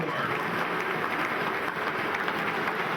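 Warm crowd applause at a Glasgow Warriors versus Harlequins pre-season rugby friendly as the Glasgow captain is acknowledged, a steady dense wash of clapping from the stands with no break throughout.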